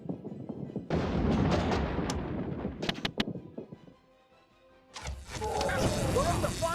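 Gunfire and artillery booms from a video game battle, loud and dense for most of the stretch, dropping briefly to a quieter lull before a fresh burst of crashing fire, with voices shouting over it.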